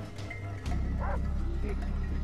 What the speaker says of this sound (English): I hate the dogs. They're the things that are annoying.